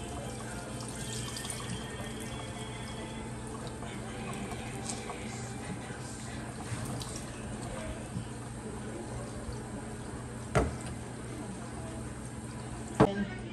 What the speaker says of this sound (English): I got one cool water running over it